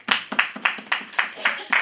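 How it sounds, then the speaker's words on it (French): A church congregation applauds with a quick, steady run of sharp, regular claps, fairly close and moderate in volume. "Applaudissez la parole du Seigneur."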